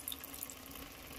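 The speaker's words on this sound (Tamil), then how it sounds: "நம்ம புளி வந்து கரைச்சி வச்சுருக்கோம் இல்லையா, அதை வந்து இதில் வந்து சேர்த்துக்கலாம்." Dissolved tamarind water poured into a pot of garlic puli kulambu, a steady close splashing trickle of liquid heard alone with no talk.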